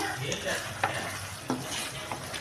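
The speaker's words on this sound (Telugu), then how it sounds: "ఈ మాదిరిగా కలుపుకొని లో టు మీడియం ఫ్లేమ్లో ఫ్రై చేసుకోవాలి. అప్పుడప్పుడు కలుపుతూ ఉండాలా, మాడిపోకుండా." Chicken pepper fry sizzles steadily in a pan over low to medium flame, with a few distinct scraping stirs of the spoon breaking through the continuous close frying hiss.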